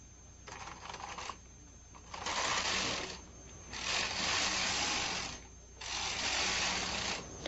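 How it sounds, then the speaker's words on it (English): A knitting machine carriage sliding back and forth to knit rows of ribbing, a loud rasping mechanical swish in three long passes with quieter clattering pauses between them, close up. "Rethread the carriage and knit regularly until you have the number of rows you need for"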